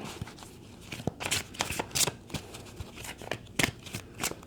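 Tarot cards being shuffled by hand at close range, a run of soft riffling and slapping bursts with brief pauses between, moderately quiet with no voice over them.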